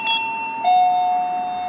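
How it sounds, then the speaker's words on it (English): A two-tone electronic hotel room doorbell chimes, a short higher note followed by a longer sustained lower tone, clear and close. "the guest can press the button for the doorbell"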